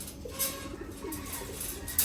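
A red-geared female home-bred Gorra pigeon coos softly at close range, a few low murmuring calls over faint background noise, with no one talking.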